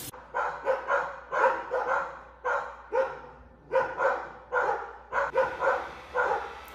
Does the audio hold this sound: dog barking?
yes